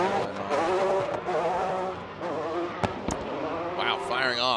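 Ferrari 599 V12 drift car running nitrous, competing in a Formula Drift qualifying event at Irwindale, roars loudly throughout with sharp pops and bangs around the middle and tire squeal near the end.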